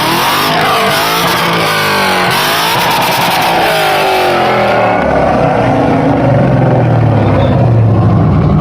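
A Ford Mustang engine revs hard and close by, rising and falling in pitch, then settles into a rougher, lower rumble in the last few seconds, with strong wind in the background.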